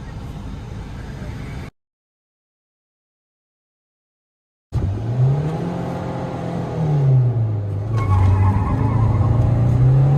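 Diesel and petrol Maruti Swift cars accelerating side by side in a drag race, their engine notes rising steadily and loud, with an engine pitch sweeping upward after a brief gap of silence.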